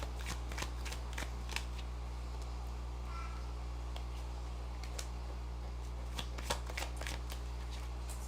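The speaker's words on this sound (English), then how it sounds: "Oops, I'm dropping cards." Tarot cards are handled and dropped close by, giving a scatter of crisp flicks and slaps in irregular bursts over a quiet, humming room.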